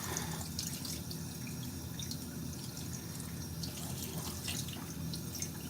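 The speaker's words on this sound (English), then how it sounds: "Just giving it a rinse. Make sure there's no chemicals left." Running water pours steadily over a darkroom photo print being rinsed, an even close splashing rush with scattered drips, no voices.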